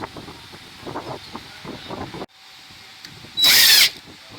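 A power tool gives a short, loud burst as it tightens bolts on a motorcycle clutch, following rustling handling noise and wind buffeting on the microphone.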